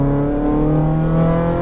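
An exotic sports car's engine pulls steadily on a Las Vegas race track as it rolls onto the power out of a corner, a loud continuous droning note with layered harmonics and no talking.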